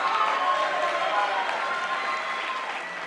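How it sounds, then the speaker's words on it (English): Audience applause at a high school Rhythmology percussion show, a dense, steady burst of clapping from the crowd that tapers slightly toward the end. "Give me a big round of applause"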